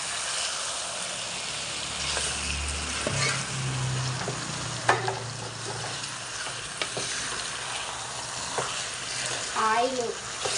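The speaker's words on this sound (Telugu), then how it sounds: "ఆయిల్ చికెన్ కలిసేంత వరకు చక్కగా తిప్పేసుకోండి" Chicken frying in oil for a curry, a constant close sizzle with stirring scrapes and occasional clinks of a spoon against the pan throughout.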